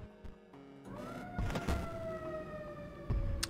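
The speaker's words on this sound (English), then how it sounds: "Sorry for the siren." Electronic siren sound from the Inscryption card game rising and holding over quiet game noises, with soft thunks and clicks around it, moderately loud and no speech.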